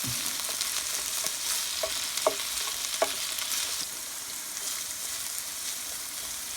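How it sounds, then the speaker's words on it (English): Vegetables sizzle steadily in an electric skillet while being tossed and stirred, with several distinct utensil scrapes and clicks over a continuous close frying hiss. "we finally have some heat going on the veggies. Just toss these around a little bit."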